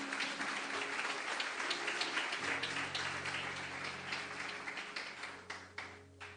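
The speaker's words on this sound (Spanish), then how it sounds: "Un aplauso para el Señor, iglesia." Church congregation applauding, a steady patter of many hands clapping at low volume that thins out toward the end, with a faint sustained tone underneath.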